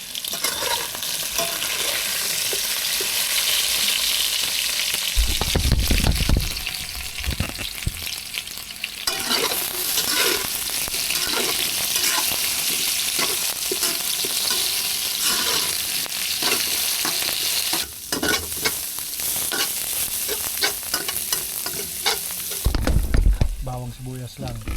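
Carrots and potatoes frying in a pan, a constant loud sizzle with repeated scraping and stirring clatters, close by, with no talking.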